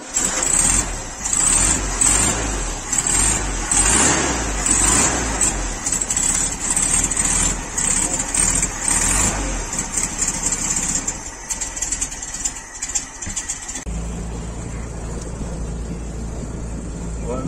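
Two classic cars, a 1964 Mustang and a Beetle convertible, rumble steadily while driving, a continuous loud engine drone with a brief idle change near the end.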